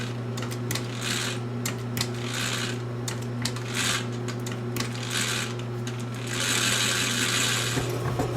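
A sewing machine runs steadily while stitching curves, its rapid mechanical clatter surging in bursts and easing off, close and prominent over a constant low motor drone.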